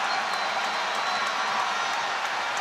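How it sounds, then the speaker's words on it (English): Badminton arena crowd cheering steadily after a lucky net-cord point, a dense continuous roar of voices and applause filling the space without pause. "The audience thinks it's not luck, it's skill. You can hear it from the cheer."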